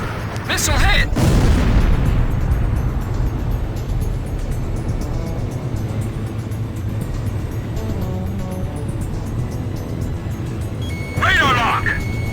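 Missile explosions in Ace Combat 5: two loud booming blasts, one near the start and another near the end, over a steady jet engine roar, with radio chatter.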